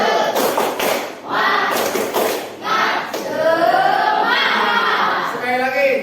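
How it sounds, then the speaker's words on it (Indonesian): A seated group of teachers claps a rhythmic spirit clap together, bursts of patterned hand claps coming in short bunches with voices and chatter mixed between them in a room. "Masih ingat tepuk semangat?"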